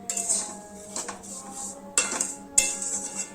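Vermicelli being stirred as it fries in a pan over a low flame: a metal spoon clinks and scrapes against the pan in a few distinct close knocks, with a faint steady hiss beneath.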